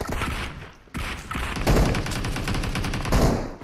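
Rapid gunfire from a Counter-Strike-style shooter, a dense stream of loud close shots with a brief gap near the first second, then continuing bursts through to the end.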